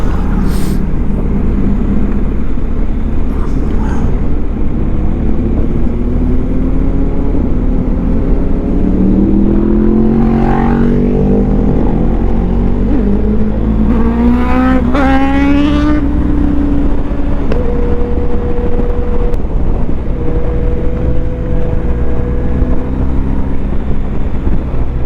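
Motorbikes overtake a rider on a road loop in the Ardennes near Spa, their engines rising and sweeping past one after another over steady loud wind and engine roar.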